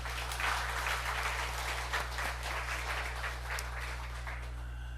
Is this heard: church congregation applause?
yes